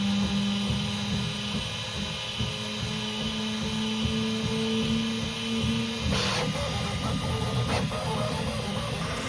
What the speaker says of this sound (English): Then it flushes out all the remains of the previous filament, cleans the nozzle, then prints a layer on the multicolor purge tower